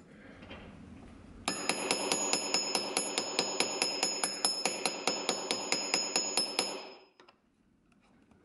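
A hammer peens down a snipped rivet on a leather glass-cup tool pouch, about two dozen quick, evenly spaced metallic taps ringing close and bright for several seconds, then stopping, with no talking.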